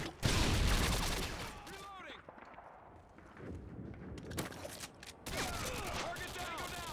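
Gunfire in Call of Duty: Modern Warfare 2 comes as rapid automatic bursts and sharp cracks that are loud and close. They stop briefly, then resume with ricochet-like whines, and a voice is heard talking underneath.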